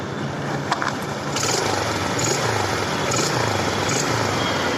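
A motorcycle engine fitted with a D-type carburetor and 3-in-1 port drones loudly and close at full throttle, a steady buzzing roar with rising and falling pitch as the revs climb and settle.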